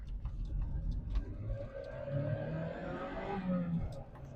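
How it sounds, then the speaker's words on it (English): An open-top sports car driving on a UK road, engine droning and rising through gears with wind noise, heard from inside the cabin at moderate level, easing off toward the end. "the open top driving is a lot of fun, but sometimes it can get a bit noisy in here"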